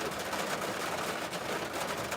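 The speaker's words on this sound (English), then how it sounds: "Hold on, that rain sounds so good." Steady rain drumming on a car roof and windows, heard from inside the car as a continuous dense hiss with no breaks, close and even throughout, no talking.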